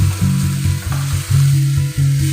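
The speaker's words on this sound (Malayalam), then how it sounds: "സവോള പച്ചമുളക് ഇനി ഇത് നല്ലപോലെ ഒന്ന് വഴറ്റിയെടുക്കാം" Sliced onion and green chili sauté in hot oil in a pan, a loud, close, continuous sizzle with steady crackling, heard alone without any voices.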